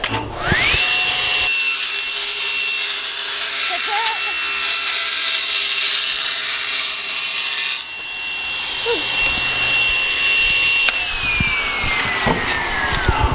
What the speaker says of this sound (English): now I'm just lining up the saw. We'll get the wheel cranking.